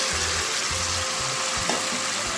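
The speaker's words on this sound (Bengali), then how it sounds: "সবজিগুলো দিয়ে নাড়াচাড়া করে নিয়ে" Vegetables tossed into a pan with small prawns for a Bengali pui shak chachchari, sizzling loudly and continuously at close range with stirring scrapes throughout.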